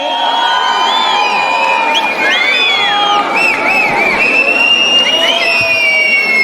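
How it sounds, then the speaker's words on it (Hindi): A packed audience at the Miss Ladarcha Queen pageant in Kaza, Spiti, cheers, whoops and shrieks continuously for a prize winner, with high whistling and squealing voices layered over a loud, dense crowd roar. "तालियां इनके लिए बजती रहनी चाहिए"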